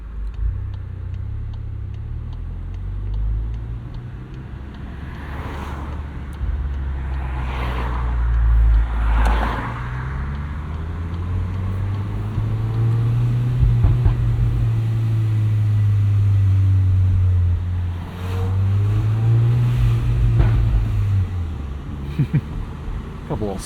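A 2024 Volkswagen Golf R MK8 with a six-speed manual, its engine droning low inside the cabin during a night drive, swelling in a few rising and falling pulls as the car accelerates, with some road rumble underneath.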